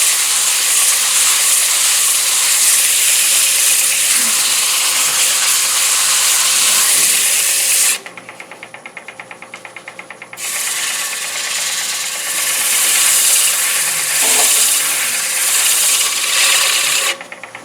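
Sandpaper against a spinning wooden bowl on a lathe, a loud continuous hissing rasp that drops to the quieter whir of the lathe for a few seconds, then returns strong, close and without talk.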